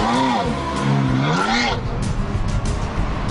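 A borrowed Ferrari accelerates hard, its engine note rising and falling in sweeping revs with possible tyre noise, loud and close, while a voice speaks over the first part.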